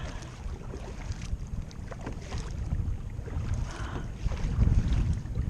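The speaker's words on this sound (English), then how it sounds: "We'll just paddle along here" Kayak paddling on choppy, windy water, with a steady rush of wind buffeting the microphone and soft splashing and sloshing of water around the hull, no voices.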